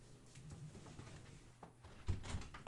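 A door at home being opened, giving a couple of soft thumps and a handle clunk in a quiet room, fairly close.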